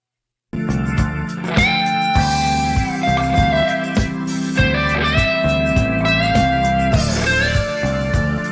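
Electric guitar on a PRS playing the rhythm of a song, with choppy muted strums over a steady groove and sustained bent notes ringing above, loud and continuous after a brief silent start.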